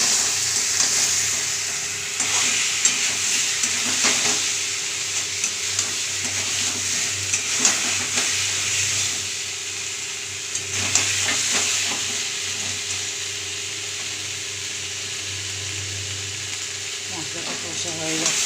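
Masala and potatoes being stir-fried in a pan for egg curry. A steady broadband sizzle runs throughout, with intermittent scraping and stirring clatter, close and continuous.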